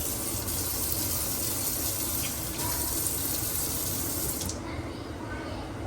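Boiled food with shallots and garlic being drained through a strainer, water gushing steadily and loudly close by, easing off near the end.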